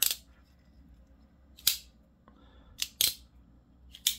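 A Demko AD20 folding knife clicks sharply as its lock opens and shuts, with several crisp isolated snaps spaced across a quiet background, two arriving close together near the end.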